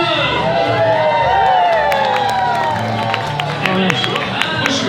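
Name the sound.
audience applause and cheering after dance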